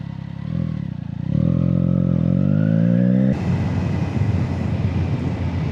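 A motorcycle on the road, engine note rising through the revs and then a gear change into a rougher, lower rumble with wind noise, loud and close.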